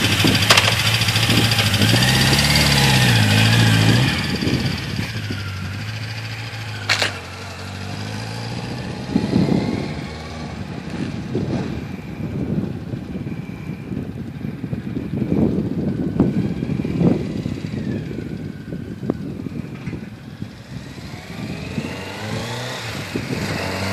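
A Yamaha XJ650 Seca motorcycle engine starts and then runs steadily at close range, with its loud idle rumble continuing throughout and uneven revving later on.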